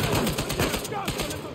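Rapid gunfire bursts from the action game Uncharted 4: A Thief's End, dense overlapping shots with game music or ambience, loud and continuous throughout, no one speaking.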